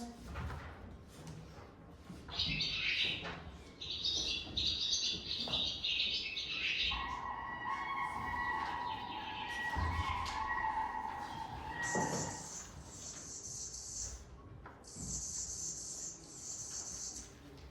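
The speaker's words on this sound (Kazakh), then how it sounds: "ненің дыбысын естідіңдер? Құстардың." Recorded birdsong played in a school classroom: several birds sing in turn, clear whistled phrases and trills repeating over a faint background, with no one speaking.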